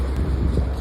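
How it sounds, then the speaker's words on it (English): Wind gusting outside a parked car, a brief rumbling low-frequency buffeting roar, steady and fairly loud. "it is so windy outside"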